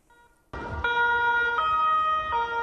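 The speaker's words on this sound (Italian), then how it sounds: "diverse squadre di vigili del fuoco sono arrivate a sirene spiegate" Fire brigade sirens in Palermo, Italy, wailing loud and steady from several engines arriving at an emergency, the tones holding then stepping in pitch over passing road traffic.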